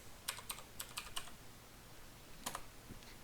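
Short clusters of computer keyboard keystrokes, entries being typed into a spreadsheet, crisp close clicks in two bursts separated by a brief pause, quiet and with no one talking.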